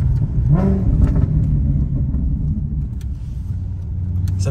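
Deep Maserati car engine rumbling steadily up close, a low continuous growl with a brief rise early on, no talking.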